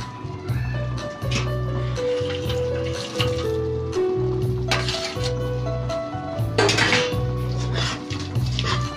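Fried nethili fish is stirred into a tomato curry in a metal pan, with repeated scraping and clinking of a spoon against the pan, steady and close, alongside a faint background hum.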